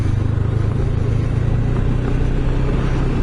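A Honda CB500X motorcycle rides over gravel, its engine giving a steady low rumble with loose clatter and road noise running continuously and loudly throughout.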